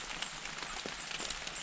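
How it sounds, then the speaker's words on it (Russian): Steady rain falls outside a cabin in winter, a dense even patter with scattered sharper drops close by, continuing throughout without voices. "смотрю на дождь"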